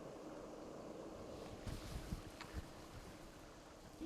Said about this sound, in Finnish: jos sanon, että oli aika tuulista